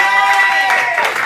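An audience claps and cheers for a comedian's stunt, a dense and loud wash of applause that holds steady for about a second.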